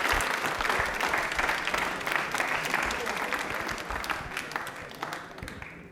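A studio audience at a televised Rajasthani quiz show breaks into loud, steady applause that fills the room, with a voice briefly audible beneath the clapping as it slowly tapers off.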